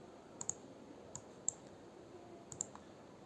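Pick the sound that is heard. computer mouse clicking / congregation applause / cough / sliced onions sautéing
computer mouse clicking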